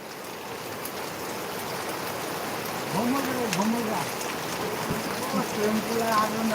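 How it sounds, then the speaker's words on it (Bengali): Heavy rain pours down in Bhaluka as a dense, even roar that swells slightly, while a voice is heard over it in the second half. "দেখো কত পরিমাণে কত স্পিডে বৃষ্টিটা হচ্ছে"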